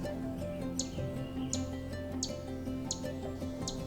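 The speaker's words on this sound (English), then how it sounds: "I heard a quiet chirp coming from the understory" A Canada Warbler in a dense forest understory gives a run of about five short, quiet, evenly spaced chirps over a steady background hum.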